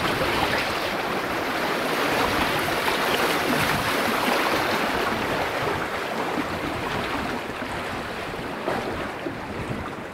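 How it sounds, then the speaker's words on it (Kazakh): Water rushes through opened sluice gates on a river in Zhambyl region, a continuous, loud, turbulent roar mixed with wind buffeting the microphone, and no one speaks. "Судың ағысы жақсы. Міне. Шлюздарды ашып қойған."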